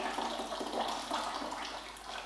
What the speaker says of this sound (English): I just take my boiling water from my kettle and I fill it up to the next line